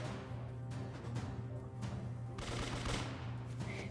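Video game gunfire rattles in sustained, rapid automatic bursts at low volume over a steady background hum, with no talking.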